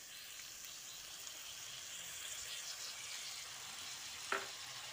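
Raw banana, potato and whisked yogurt with spices frying in a pan over low to medium heat, a soft continuous sizzle with one brief stir or clink near the end.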